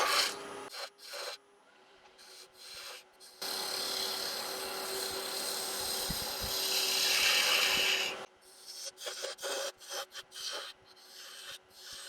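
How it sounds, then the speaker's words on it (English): A half-inch spindle gouge cuts a wooden sphere from a small scrap log on a wood lathe, a steady raspy scraping hiss over the spinning hum lasting several seconds, framed by shorter intermittent cuts before and after. "So now we'll start making our sphere. I said this is a 1/2 inch spindle gouge."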